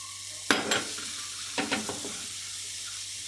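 Butter melting with vermicelli in a pan for a khashkhash dessert, a faint steady hiss broken by two clusters of clattering utensil scrapes against the pan, close up.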